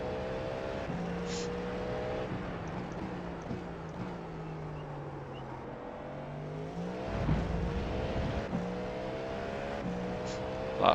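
Cadillac V-Series.R LMDh prototype race car in iRacing cruising at steady speed, a sustained engine drone with harmonic whine that dips and swells slightly through gear changes, running continuously throughout.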